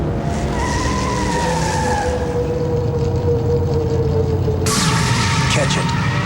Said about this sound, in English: The Miller Genuine Draft Rusty Wallace stock car.